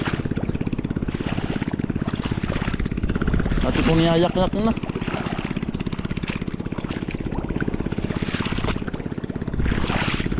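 A hand tractor engine chugs loudly and steadily in a flooded rice paddy, its rapid pulsing running through the whole stretch while a person talks over it.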